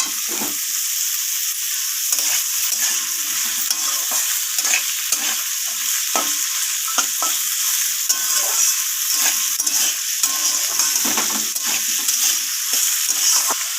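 Potatoes are stirred and fried in a pan for a savory breakfast dish, with a loud, steady sizzle running throughout and repeated scraping stirring strokes close by, with no talking.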